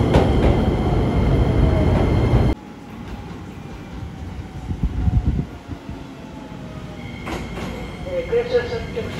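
A Keisei line local train at a station platform, a steady rumbling roar that drops abruptly, then quieter rolling, clatter and faint squeal, with a voice talking over it.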